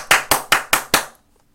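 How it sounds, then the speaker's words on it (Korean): Five sharp, evenly spaced claps ring out close and loud in a quick rhythm, then stop abruptly into silence. "박수!"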